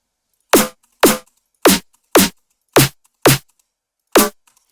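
A punchy snare sample in Ableton Live, layered with white noise and a pitched kick, hits seven times in a steady pattern, each strike a loud, bright crack with a low thump underneath and a short tail.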